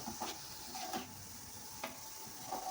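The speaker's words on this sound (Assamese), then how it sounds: "এতিয়া মই এইখিনি পিঁয়াজো আগৰ দৰে ৰঙচুৱাভাৱে ফ্ৰাই কৰি ল'ম" Onions fry in oil for homemade chicken dum biryani, a soft steady sizzle with occasional light stirring clicks, fairly quiet and unaccompanied by speech.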